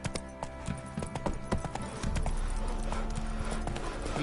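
Roach, the horse from The Witcher 3, gallops with rapid, close hoofbeats, uneven at first and then settling into a steady drumming run over low rumbling ambience.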